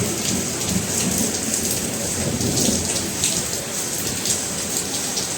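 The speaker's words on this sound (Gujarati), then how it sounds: "અવાજ આવતો હશે તમને ગાજવાનો" Heavy rain pours steadily in a dense, constant roar with wind, and low thunder rumbles underneath; no voices.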